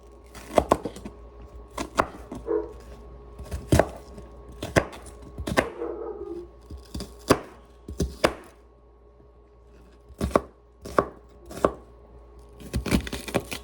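Sharp knife strokes slice through ingredients for an egg boil, about a dozen crisp, irregular cuts against a board, close and alone in a quiet kitchen.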